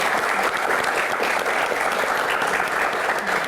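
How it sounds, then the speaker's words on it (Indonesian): An audience at a Q&A event breaks into steady, dense applause that holds at an even level for the full few seconds, with no talking over it. "langsung saja kita berikan tepuk tangan dulu untuk Ibu Dwi Korita"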